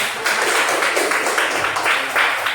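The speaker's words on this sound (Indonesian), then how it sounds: "Tepuk tangan untuk kelompok 2." A classroom audience applauds a student group called up to present, a dense, continuous wash of clapping that holds at a fairly loud level throughout without any talking.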